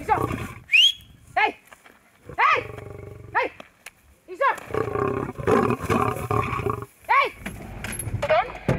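Lions roaring inside a zoo enclosure, a male and two lionesses, with repeated loud, deep roars and grunts coming in bursts close to the microphone; no one speaks.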